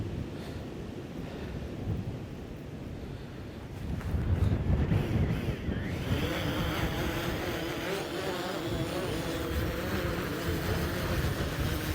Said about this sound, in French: Oh, le vent, il galère le drone.